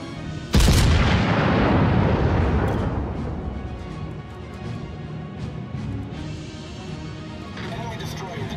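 Battleship main guns fire in World of Warships as the Amagi shoots at an enemy Yamato. A single loud, heavy boom hits hard, then rolls away in a long, fading rumble over steady in-game background noise.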